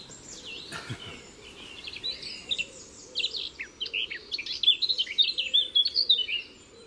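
Many birds sing and chirp together in a busy dawn chorus, high bright calls overlapping steadily and growing denser toward the end, with a low hum beneath.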